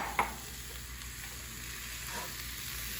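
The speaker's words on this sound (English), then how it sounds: "So now I know it's time to add my tomatoes." Halved cherry tomatoes hit a hot pan of spiced shakshuka base, setting off a steady close sizzle of frying with a soft clatter near the start and no talking.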